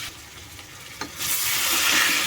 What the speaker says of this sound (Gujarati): વચ્ચે વચ્ચે છે આપણે ચમચો ફેરવતા રહેશું